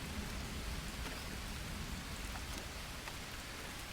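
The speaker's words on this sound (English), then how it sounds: "So we will just wait out the rain here." Rain falls steadily in the video game Spirits of Amazonia, a dense, even hiss of downpour that stays constant and fairly quiet, with no voices over it.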